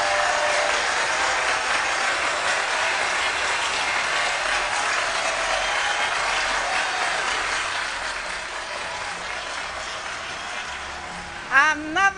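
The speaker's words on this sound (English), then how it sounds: "a big round of applause." A large audience claps at a Ghanaian beauty pageant finale night, dense continuous applause that slowly fades, followed by a voice at the very end.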